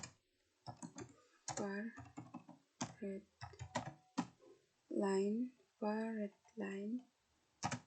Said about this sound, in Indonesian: Lalu kita ketik